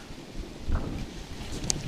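Strong wind roars outdoors at an open hunting range, a steady, loud rushing buffet that pummels the microphone throughout, with a brief sharp crackle near the end and no voices.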